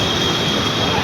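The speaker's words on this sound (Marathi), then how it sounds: "या साईडला ट्रेनचं आहे, लोकल ट्रेन." A local train passes close by, giving a loud, steady rumble of rolling wheels with a thin high metallic whine over it that runs unbroken.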